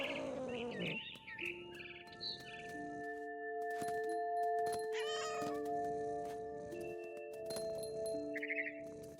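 A cat meows in What Remains of Edith Finch, a few close, tonal cries near the start amid a quiet outdoor scene with steady humming tones, scattered bird chirps and soft rustling movement.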